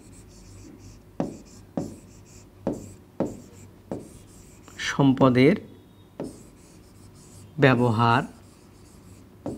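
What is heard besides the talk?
writing on a board during a lesson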